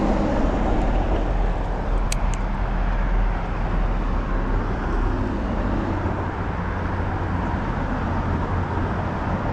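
Steady roar of passing traffic, cars rushing by continuously at close range with no pauses, loud broadband road noise throughout, beside the Trout River in Jacksonville, Florida.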